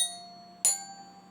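A single metal glockenspiel bar tuned to F is struck once, giving a bright, close ringing tone that decays quickly and stands alone without speech.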